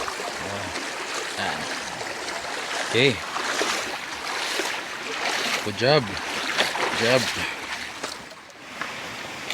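River water rushes steadily at a crossing on a mountain hike, a continuous close flow under brief spoken words from hikers, with a few sharp splashy bursts along the way.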